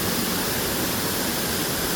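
Bridal Falls roars as a waterfall, its falling water a steady, dense rush with no breaks, loud and close throughout.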